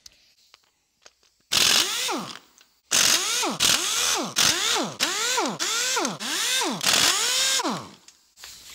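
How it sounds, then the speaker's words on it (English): Pneumatic air impact gun loosening the main bearing caps on a Rover P6 3500 V8 engine block: a series of loud, close rattling bursts with rising and falling pitch, separated by short pauses. "Got my air gun in hand. I'm just going to buzz off the last of the main bearing caps so we can lift the caps off"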